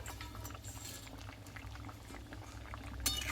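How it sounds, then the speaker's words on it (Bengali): Small fish going into taro curry simmering in a pot, giving a steady low bubbling boil with faint splashes and a brief sharper clink near the end, with no talk. "এইবার এখানে এই মাছটাকে দিয়ে দেব"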